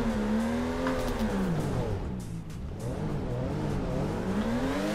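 Video game car engine in Torque Drift revving hard through a jump drift, a loud continuous whine that dips and climbs in pitch as the throttle is worked, with no voices.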